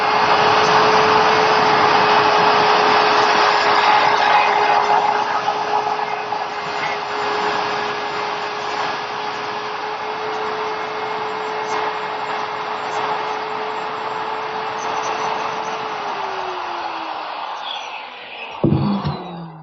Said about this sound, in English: Now I'll be able to remove the bulk of the material with my router.